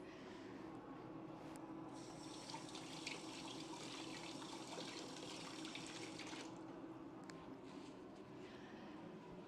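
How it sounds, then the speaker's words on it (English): Steady running tap water splashing into a sink while hands are washed, close and continuous, with faint rinsing changes partway through and no talking. "I'm just gonna wash my hands again"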